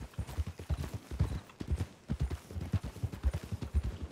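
Horse hooves clip-clopping in RedM roleplay, a brisk, steady run of close, punchy thuds in an even walking-to-trotting rhythm throughout, with no voices over them.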